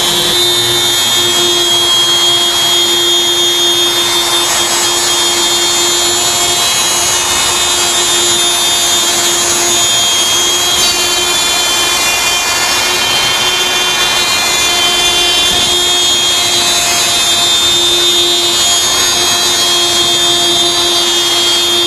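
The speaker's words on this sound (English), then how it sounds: "Start the router and move it in a counterclockwise direction." Router cutting a large circle with a circle jig, a loud, steady high-pitched whine and cutting roar held close throughout.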